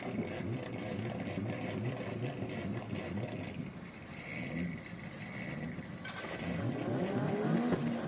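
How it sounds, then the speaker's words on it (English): Drift cars race past at a Southeast Asia Drift Series final, engines revving and roaring at a distance, rising and falling as they go by, with crowd and ambient noise around them. "Pond being chased down by Danny FERDITO as they roll past our commentary"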